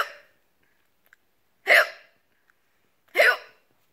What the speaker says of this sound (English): Those are fake hiccups.